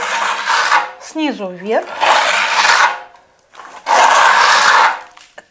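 A plastering trowel sweeps across a wall, smoothing fiberglass-reinforced plaster in long raspy strokes, three broad passes with pauses between and a squeaky scrape in one, under brief speech.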